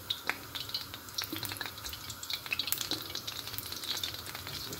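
Pakoras dropped by hand into hot cooking oil crackle and sizzle, with scattered sharp pops over a steady frying hiss, close and fairly quiet, no talking.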